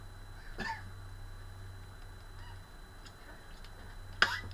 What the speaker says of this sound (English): There's some seagulls having a fight.